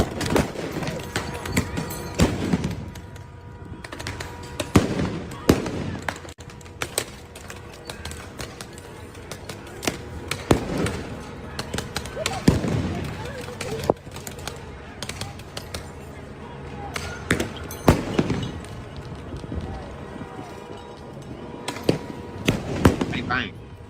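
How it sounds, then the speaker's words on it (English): Fireworks being set off outdoors during a night of riots, with sharp bangs and pops scattered irregularly throughout, some near and loud, others more distant, while people talk over them. "They is shooting out there shooting fireworks."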